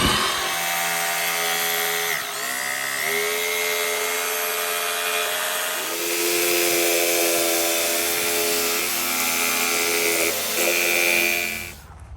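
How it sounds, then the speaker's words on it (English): A jigsaw cuts through PVC pipe for a homemade chicken feeder, its loud motor whine running steadily close by, dipping briefly and then rising again before it stops at the end. "He's going to use a jigsaw to cut these"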